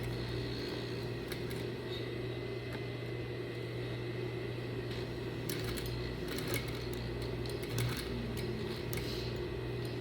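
A sewing machine hums steadily at close range while stitching a patch pocket, with a continuous motor drone and faint, light ticking throughout.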